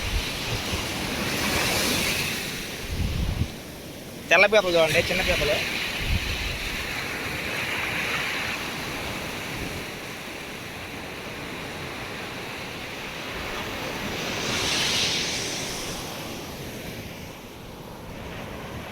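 Sea surf on the beach at the Ullapalem coast gives a constant broad wash of waves with wind noise, swelling louder around the middle-late part, while people briefly talk and call out early on.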